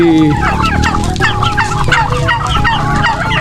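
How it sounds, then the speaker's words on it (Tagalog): Loud, close turkey gobbling, repeated rapid warbling calls over a constant background of other fowl clucking and chattering in a poultry house. "mayroon akong naglilimlim dito na pabo"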